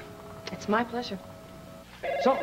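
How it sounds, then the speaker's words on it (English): A telephone rings in an indoor room, a steady electronic tone repeating through a conversation, with voices talking over it before a second ring cuts in more loudly near the end. "Oh, that's the phone."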